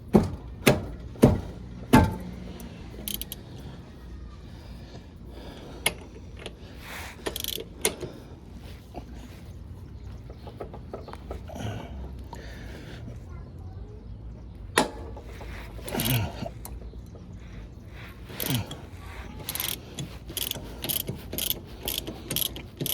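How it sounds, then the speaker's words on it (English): A ratchet works on the 27 mm rear axle nut of a Honda GL1500 Goldwing, making sharp clicking bursts close by, with a busy run at the start, sparse clicks in the middle and a quicker cluster near the end. "We're going to loosen that nut, 27 millimeter."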